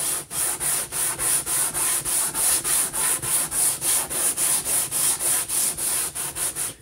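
Sandpaper of 100 grit rubbing across a guitar fingerboard during a refret, an even rhythm of about three strokes per second, close and continuous with no talk.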